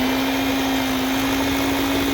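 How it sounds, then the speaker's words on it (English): An electric hand mixer whirs steadily through ginger cookie dough, a constant close motor drone with a strong hum and no talking. "we're gonna mix it with our electric mixer again"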